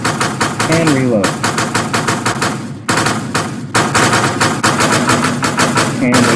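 Rapid automatic weapon fire in the video game DevSaber, dense bursts of sharp shots with short gaps, loud and close, mixed with game engine noise and a voice talking over it.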